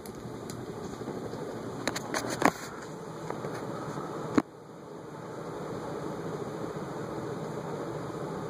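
Vintage A&G Machinery Bentley ceiling fan, the I-Fan, running on high speed: a steady broadband whoosh of moving air with a faint hum, broken by a few brief clicks and a sharp knock midway before the even rush continues.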